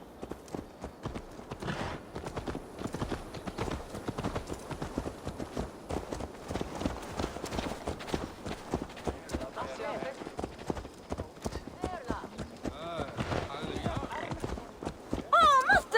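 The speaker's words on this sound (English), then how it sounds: "Let's return the horse." Horse hooves in the Assassin's Creed Valhalla video game, a steady quick clip-clop of a horse moving along, with an occasional whinny and people talking over it throughout.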